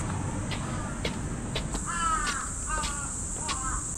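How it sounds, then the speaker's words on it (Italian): Crows cawing outdoors on a sports campus in Tokorozawa, Japan, several harsh, drawn-out caws in sequence at moderate distance over a steady background hiss. "Qua le cornacchie sono grandi come pterodattili, dei versi raccapriccianti"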